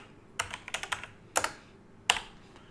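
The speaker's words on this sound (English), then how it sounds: "I'm going to type in Checkmate." A book title is typed on a computer keyboard in a quiet room, with a few separate keystroke clusters: a quick run of clicks, then two more short bursts, all close and crisp.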